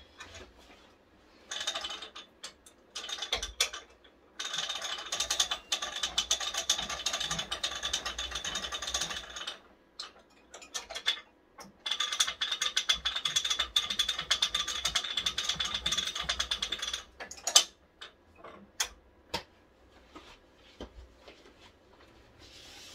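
The take-up bar on a quilting frame ratchets as backing fabric rolls onto the leader cloth, with bursts of rapid clicking separated by pauses, close and clear.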